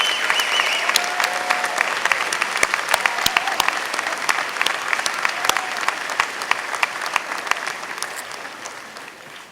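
Graduates at a 2016 commencement ceremony applaud their parents and friends: dense, loud clapping from a large crowd fills the hall evenly for several seconds before easing off slightly at the close.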